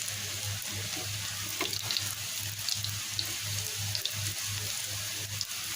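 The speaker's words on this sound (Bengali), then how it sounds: "চুলোর জালটা একটু কমিয়ে দেবো দিয়ে এবার আস্তে জালে ভাজবো" Lentil fritters made with pointed gourd vines fry gently in oil over low heat, a soft continuous sizzle with a low steady hum beneath it and no talking.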